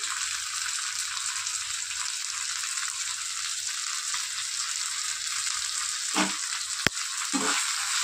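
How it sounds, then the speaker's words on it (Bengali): Chicken sizzles steadily in a hot pan, a loud continuous broadband hiss with a couple of brief scrape or clatter accents near the end, no voices. "এবার একটু ভাজা ভাজা করে নেব।"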